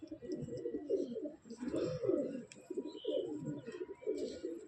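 A Kasuri pigeon coos close by in a steady series of soft, throaty rolling coos, with faint chirps from other birds in the background.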